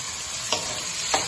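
Fried ingredients for a Munnakaya tomato fry are stirred in a pan over a steady sizzle, two distinct scraping strokes of the spoon standing out close by, with no voices.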